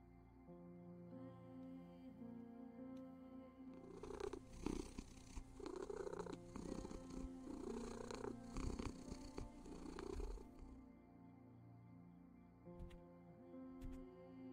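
Cat purring and meowing in the video game Copycat, a close, steady purr rumbling under music, with a stronger burst of vocal sound in the middle of the passage.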